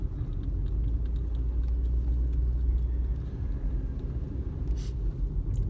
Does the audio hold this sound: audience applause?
no